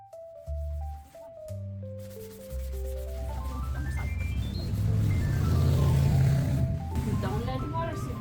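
A sponge scrubs a wet wooden Broyhill Saga dresser during paint stripping, a steady close rubbing and swishing that builds under a background of tonal music and sounds continuous throughout.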